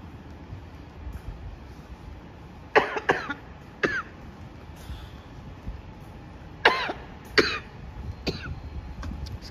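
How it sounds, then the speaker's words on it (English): A person with a dry throat coughs several times, alone and close, during a night walk on a Toronto street. Short bursts come in two clusters over a steady hum of outdoor city noise. "Let me just cough it out."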